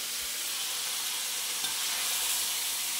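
Mutton curry frying in a kadai gives off a steady, even sizzle, a continuous close hiss with no voices over it.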